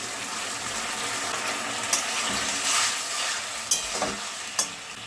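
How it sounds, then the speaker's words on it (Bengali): Water goes into a pan of chilli paneer sauce: a steady background sizzle with a few sharp splashing and clinking bursts near the end, and no one talks. "জল দিয়ে দিচ্ছি"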